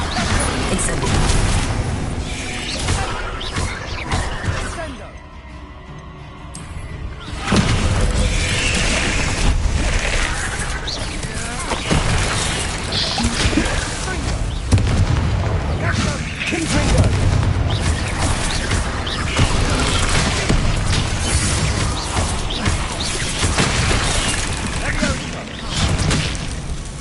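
The Incendio fire spell booms in Hogwarts Legacy amid a dense, loud stream of combat blasts and crashes, with a voice speaking over the action.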